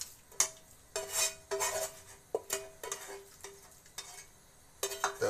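Brine and vegetables for a Leningrad-style rassolnik go into a soup pot and are stirred, giving repeated close clinks and scrapes of a utensil against the pot in an uneven rhythm, with no talking.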